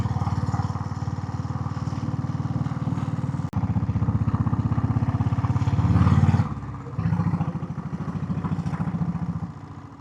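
A Royal Enfield Bullet with a diesel engine labours uphill on a Yercaud hill road, its low thumping exhaust pulsing steadily and close, with a brief dip and a shift in tone partway through.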